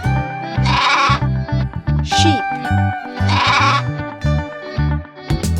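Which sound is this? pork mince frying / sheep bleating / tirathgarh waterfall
sheep bleating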